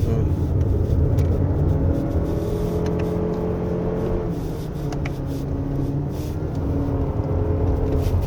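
A 2023 Lexus RX350h hybrid drives a winding mountain road, its engine droning steadily with shifting pitch as gears change down, a continuous cabin-heard hum with no talking.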